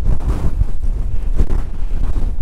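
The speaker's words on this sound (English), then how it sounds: "It's a bit windy, but hopefully we can get the tents up and we'll be fine." Strong wind buffets the microphone on a mountain, a loud roaring rush with gusty surges.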